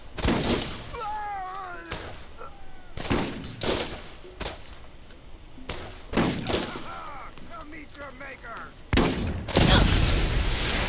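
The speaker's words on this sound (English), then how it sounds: "I'm just gonna use the pistol" Pistol shots in Borderlands ring out as a series of loud, sharp cracks at irregular intervals, mixed with chirping game effects and other scattered bangs.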